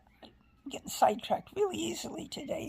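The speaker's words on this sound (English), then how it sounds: "She's meowing her little head off." A house cat meows repeatedly in the background while someone talks over it, the cries rising and falling between her words.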